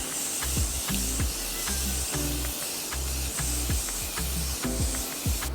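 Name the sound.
Morphe Continuous Setting Spray being sprayed on face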